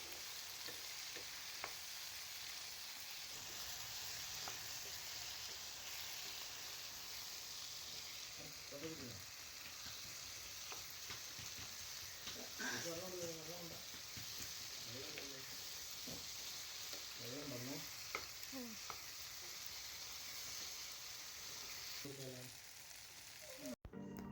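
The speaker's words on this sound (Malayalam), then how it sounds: "അതിലേക്കൊരു 2 തക്കാളിയും ഒരു 3 പച്ചമുളകും കൂടെ അരിഞ്ഞിട്ട് ചേർക്കുക. നന്നായിട്ടൊന്ന് മിക്സ് ചെയ്തെടുക്കണം." Onions, tomatoes and green chillies stirred and frying in a pan, a steady sizzling hiss throughout with a few spatula scrapes and soft knocks, while a voice talks faintly in the background.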